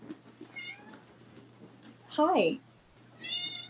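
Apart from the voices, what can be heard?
cats meowing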